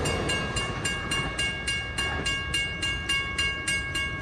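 An LIRR M3 electric commuter train on the Main Line rolls past, with regular rhythmic clacks of wheels over rail joints and a steady tonal hum, moderately close and without talk.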